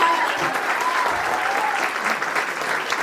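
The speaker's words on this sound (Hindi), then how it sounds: "एक बार मातृशक्ति के लिए एक बार जोरदार ताली" Sustained audience applause fills a Hindi poetry recital, a dense, even clatter of many hands clapping close by for about three seconds.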